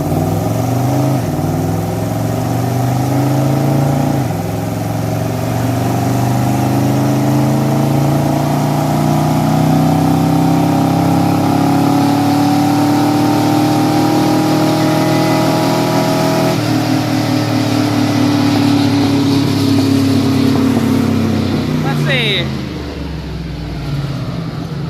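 A car strapped to a chassis dyno roars loudly through a full pull, engine pitch climbing steadily through the gears with brief dips at shifts before cutting off near the end.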